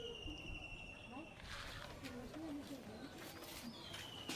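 Pigeons coo softly in a loft kept for racing birds, low murmuring calls under steady background noise and faint bird chirps, with people talking nearby.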